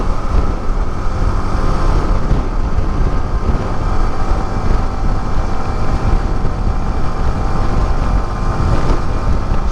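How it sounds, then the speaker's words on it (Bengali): Strong wind buffets a motorbike rider crossing the Padma Bridge, a loud, unbroken roar of wind noise that swamps everything else from start to finish. "পদ্মাতে প্রচুর পরিমাণ বাতাস, আজকে এত পরিমাণ বাতাস এটা মানে বলাই যাবে না।"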